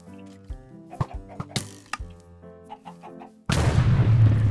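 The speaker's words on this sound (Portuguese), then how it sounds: "Essas galinhas, elas dão bônus" Minecraft chickens give a series of short clucks and squawks spaced irregularly, fairly clear over a quiet background, before a sudden loud burst of broadband noise takes over near the end.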